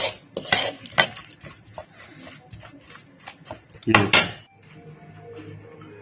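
A spoon stirs Russian salad with apples through its dressing in a bowl, giving close scraping and clinking knocks against the dish, with two louder clatters and a voice speaking faintly in places.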